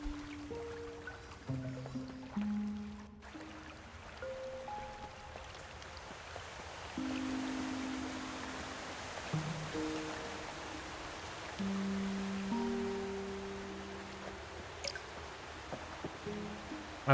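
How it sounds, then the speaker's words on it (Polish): A waterfall in the video game Snufkin: Melody of Moominvalley gives off a continuous soft rushing wash, with a few sustained musical tones over it. "fajny wodospad"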